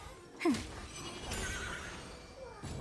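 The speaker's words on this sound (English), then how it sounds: "Horse noises." A horse in the Genshin Impact video game gives a short, sharp whinny near the start, followed by soft in-game background sound and faint hoof clops.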